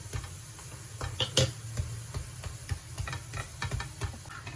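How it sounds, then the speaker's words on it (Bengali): Moong dal paratha frying in a mix of oil and ghee, with a soft steady sizzle under repeated scraping and clinks of a spatula against the pan, close and moderately loud, no talking. "এভাবে ভেজে নেব।"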